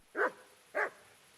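Two loud, separate barks from a dog in the medieval game Kingdom Come Deliverance, each short and sharp, with a quiet gap between them and no other sound.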